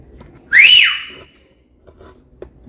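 A single loud human whistle from a member of a whistlers' club, a bright rising-and-falling note lasting about half a second, followed by quiet room sound.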